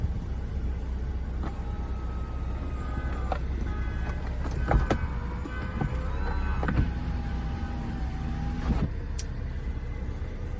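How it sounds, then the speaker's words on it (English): Electric convertible roof of an Audi TT RS whirring as it operates, a steady motor hum with mechanical clicks and latching clunks, heard close and fairly quiet inside the car. "we can attach our convertible roof."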